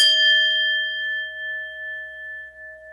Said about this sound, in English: When you're really gonged, it sounds like this.